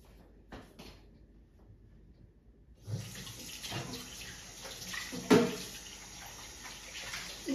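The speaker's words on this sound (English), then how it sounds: "I will continue to wash my casserole." Tap water runs into a sink while a casserole is washed, quiet knocks and a brief pour at first, then a steady close gush of running water with clatters of the dish against the basin.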